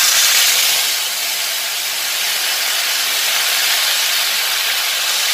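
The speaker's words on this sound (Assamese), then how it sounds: "এইটো দি ফ্ৰাই কৰিম" Ginger garlic paste frying in a hot kadai, a steady loud broadband sizzle and hiss that holds evenly throughout with no voices.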